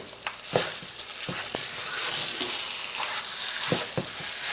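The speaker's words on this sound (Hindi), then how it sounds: "हलवे को भूनते हुए 15 मिनट हो चुके हैं।" Makhandi halwa roasting and being stirred in a pan over moderate heat, a steady soft sizzle broken by occasional scrapes and clinks of the spoon, close and alone with no talk.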